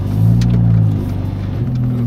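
A loud, wide-body Mercedes CLA 45 AMG idles and warms up up close, its deep, steady engine rumble rising slightly and settling again, with no talking.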